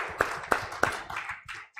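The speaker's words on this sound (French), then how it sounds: "We applaud Jesus." Three sharp, evenly spaced claps ring out up close in a church, followed by softer scattered taps and brief lighter clapping.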